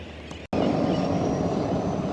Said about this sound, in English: Here is the next seaplane.